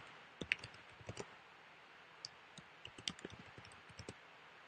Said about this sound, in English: Maybe I should type in the chat box.